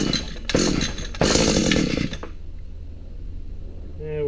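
An Echo SRM-2100 string trimmer engine is yanked with two or three quick starter-cord pulls, each a short loud sputtering burst, then drops to a low idle-like hum and near quiet.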